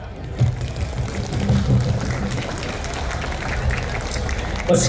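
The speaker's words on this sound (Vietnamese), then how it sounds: "Quý vị cho một tràng pháo tay cho chấp hành ạ." A crowd at a Tet fair opening ceremony in Footscray Park, Melbourne, gives a steady round of applause, a dense, moderately loud patter of clapping lasting throughout.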